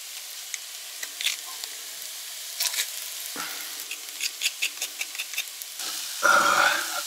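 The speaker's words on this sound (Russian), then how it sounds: "всю головку почистил и вдавливаем это все в нашу пережарку" Garlic sizzles and crackles in a hot pan, steady frying hiss with scattered pops and a louder burst of sizzling near the end.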